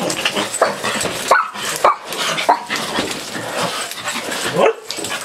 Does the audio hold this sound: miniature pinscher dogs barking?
yes